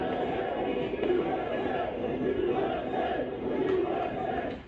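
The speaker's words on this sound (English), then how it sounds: "Here's how the crowd greeted him." A large crowd at the Formula One Miami Grand Prix greets Donald Trump with a loud, sustained roar of chanting and cheering voices that rises and falls in waves.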